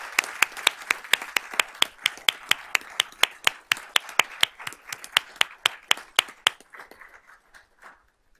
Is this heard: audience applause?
yes